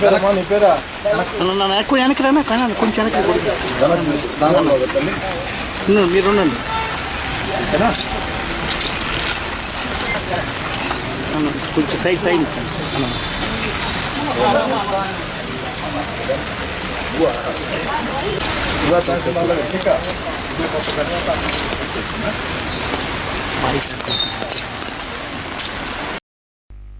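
Heavy rain pours steadily at an outdoor pension handout at the Sullurupeta water tank centre, a dense roar lasting throughout as voices talk over it.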